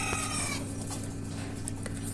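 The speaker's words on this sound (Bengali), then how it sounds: "এইখানে যে মুরগিগুলো দেখতে পারতেছেন এই মুরগিগুলোই হলো নতুন প্যারেন্টস" Hens on a poultry farm, parent-stock birds about 136 days old kept in separate pens, cluck and call loudly and continuously over a steady droning background hum.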